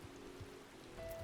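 Soft rain in Final Fantasy XIV, a faint, steady patter on surfaces under quiet ambient tones, lasting only a moment.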